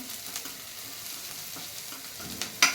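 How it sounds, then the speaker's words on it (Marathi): Chopped onion sautéing in a pan for homemade vermicelli, a faint soft sizzle with occasional scrapes and clinks of a spoon stirring, ending in a sharper metallic knock. "आता कांदा परतत आलाय आहे"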